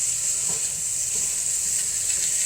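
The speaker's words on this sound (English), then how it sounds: "I'm also sauteing up myself some broccoli" Broccoli sautéing in a pan gives a steady, close sizzling hiss that runs unbroken for the whole stretch, with no voices over it.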